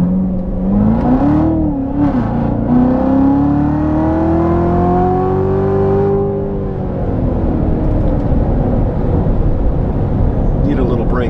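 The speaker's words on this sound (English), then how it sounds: "I did slam it to the floor, then went back on the gas." A 2017 Corvette Z06 at full throttle roars loudly as its engine note climbs steadily through a long pull, then settles into a rough, steady drone.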